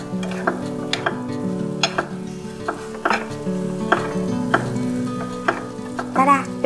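Frozen onions stir-fried with okra in a pan sizzle steadily, punctuated by repeated sharp scrapes and clacks of stirring against the pan, close and alone with no talking.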